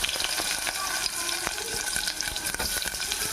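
Onion pieces dropped into hot oil already crackling with cumin seeds and curry leaves, for a potato egg kurma, produce a loud, busy fry with crisp pops and occasional ladle clinks.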